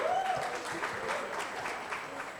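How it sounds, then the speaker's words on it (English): Audience applause at a legal-themed stand-up comedy show, a dense wash of clapping that stays steady across the brief moment. "A round of applause for SEC Time,"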